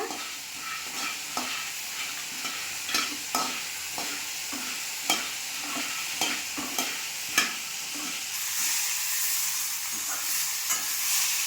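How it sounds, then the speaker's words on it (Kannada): Peanuts dry roasting in a pan on low flame, stirred with repeated rattling scrapes and taps at an irregular rhythm over a soft continuous hiss, close and moderately loud. "ಈ ಕಡಲೆ ಬೀಜವನ್ನೆಲ್ಲ ಹಾಕಿ ಡ್ರೈ ರೋಸ್ಟ್ ಮಾಡೋಣ"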